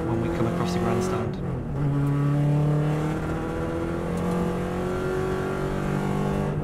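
A Subaru WRX STI race car engine drones loudly at the Isle of Man course, its pitch rising through the gears with steady acceleration and a brief shift dip, heard from inside the car with a voice talking over it.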